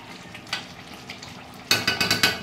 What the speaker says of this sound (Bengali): আর মা এখন রান্না করছে চিকেন